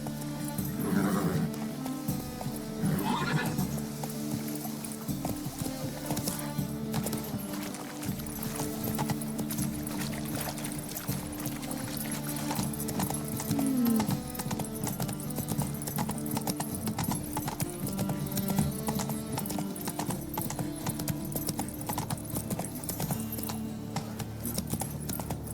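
Hoofbeats of Geralt's horse Roach galloping in The Witcher 3: Wild Hunt, a steady rapid clip-clop running throughout over game music, with occasional shouting voices and a brief whinny.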